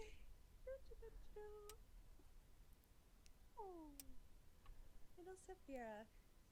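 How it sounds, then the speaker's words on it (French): Several cats meowing in short, rising and falling calls over a few seconds, fairly faint, with a quiet background. "C'est la tribu des chats de Saphia"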